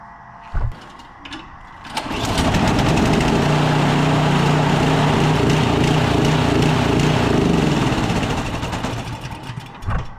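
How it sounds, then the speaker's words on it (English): A Toro snowblower engine starts up and runs at a steady, loud, close drone for several seconds before winding down, with a few brief clicks and knocks before and after. "start up the snowblower again"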